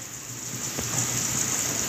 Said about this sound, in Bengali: চারধারে শুধু বৃষ্টি পড়তেই আছে